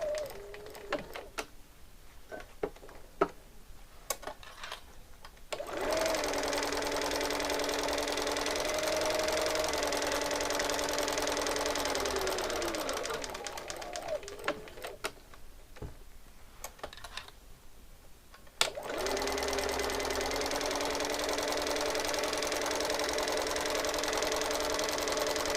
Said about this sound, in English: I'm going to stitch all the way around the block on that seam line using a small straight stitch.